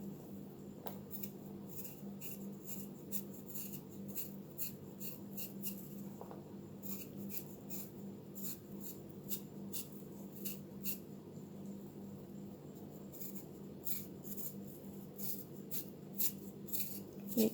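A large Irish potato peeled with a knife or peeler in a home kitchen, giving soft, quiet scraping strokes that repeat in a steady rhythm for a long stretch, close and faint, with no talk.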